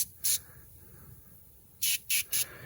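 Battery terminal cleaner sprayed from an aerosol can onto the battery of a 1993 Toyota Camry: one short hiss, a pause, then three quick bursts close to the mic in a quiet garage.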